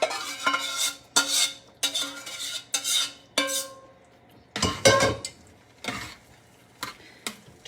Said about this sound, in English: So I'm taking the gravy, I'm adding it to the sausage.